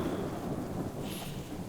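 Thunderstorm in the survival video game Subsistence: a steady rumbling roll of thunder over dense, even rain, loud and continuous throughout with no speech.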